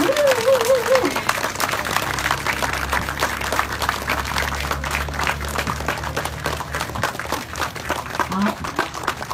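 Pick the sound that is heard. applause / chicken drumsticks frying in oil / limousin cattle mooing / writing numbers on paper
applause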